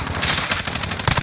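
Rapid automatic gunfire rattles in a shooter video game, a quick run of loud, closely spaced shots lasting about a second.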